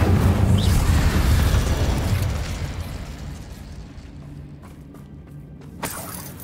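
An Incendio fire spell bursts loudly in Hogwarts Legacy, a roaring whoosh of flame that fades over a few seconds into quieter ambience with a brief crackle near the end.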